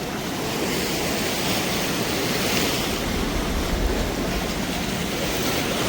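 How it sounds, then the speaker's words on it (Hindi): The flooded Ib river in Jashpur, Chhattisgarh rushes over a bridge as a loud, continuous roar of turbulent water, broad and steady throughout. "देख सकते हैं किस तरीके से नदी का जलस्तर बढ़ते हुए।"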